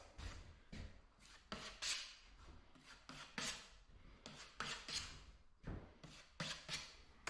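A 2.5 inch taping knife spreads plastering compound over screw holes, giving repeated close scraping swipes in an irregular rhythm, with no talking.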